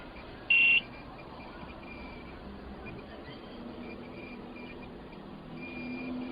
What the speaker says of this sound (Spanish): Al pasarla va a sonar la alarma y se va a prender el LED.